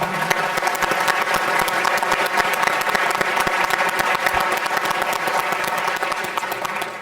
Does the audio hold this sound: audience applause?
yes